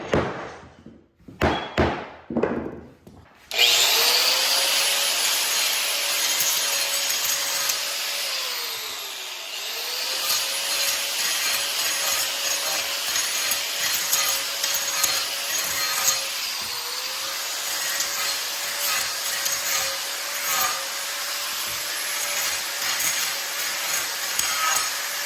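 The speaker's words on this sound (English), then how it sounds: "we're gonna go ahead and swap to my grinder" A handheld grinder runs continuously, smoothing the seams of a wooden subfloor being prepped for LVP flooring. It rises to a loud, steady whine after a few brief taps, dips briefly under load, and carries on alone without any talk.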